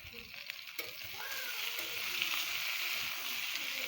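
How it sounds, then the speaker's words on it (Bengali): Young moringa drumsticks and potato fry in a pan just after the lid comes off, a close, lively sizzle mixed with scraping stirs and light clicks. "আর একটু ভাজা ভাজা হবে।"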